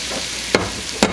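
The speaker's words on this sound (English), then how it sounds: "1 chopped green pepper, and a whole sweet onion. And saute those until they are tender" Chopped green pepper and a whole sweet onion sautéing in a pot for beef chipotle chili, with a steady low sizzle broken by two brisk scrapes of a spoon stirring.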